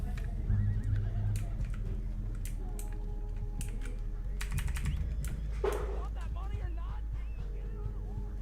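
Horses in the Red Dead Online video game give a short whinny among soft hoof clops and game ambience, while players chat over it.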